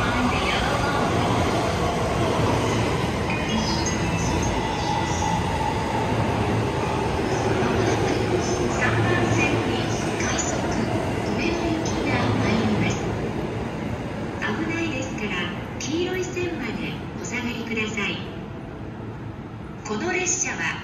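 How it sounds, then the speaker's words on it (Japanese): A freight train rumbles and clatters through Kashiwa Station on the Joban Line, wheels screeching at moments, while voices and announcements in English and Japanese carry over the steady rolling noise. "The rapid train will arrive shortly on track 3."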